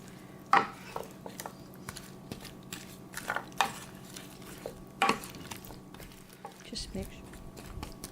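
Tomato mixture being mixed with olive oil in a kitchen dish, with scattered clinks and scrapes of utensils against the bowl and soft wet stirring between them.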